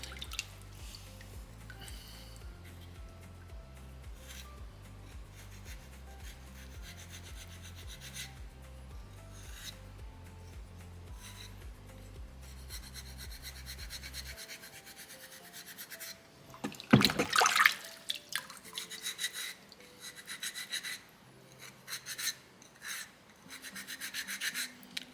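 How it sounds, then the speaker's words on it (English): Rasp filing soapstone on an owl carving, a steady rubbing scrape with a low rhythmic pattern for the first half, then a loud brief burst followed by quieter scraping. "Kind of using the edge of my rasp right now."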